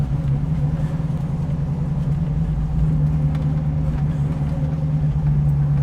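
A 1967 Pontiac Firebird rolls along a rough, ungraded road, its engine holding a steady low drone and rumble close by without revving.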